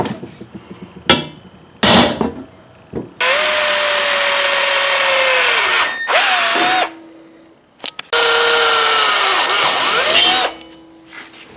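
Power drill bores mounting holes for a rugged radio console mount, two long loud whirring runs with pitch shifting under load, separated by brief pauses and sharp clanks from handling the work.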